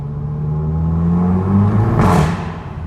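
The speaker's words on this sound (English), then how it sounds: "This is the standard exhaust apart from that centre resonator being removed?" Cupra 300 DSG with the standard exhaust minus its centre resonator, revving loudly up close in an underpass: a deep droning engine note climbs in pitch, then swells into a brief raspy exhaust burst near the end.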